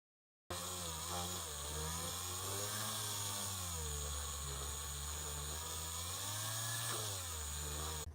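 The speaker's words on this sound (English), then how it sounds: "let's just go ahead and crank up the drill" A power drill bores into the plastic elbow joint of a He-Man Origins Jitsu action figure, a steady loud motor whine with rising and falling pitch as it bites, running continuously for about eight seconds.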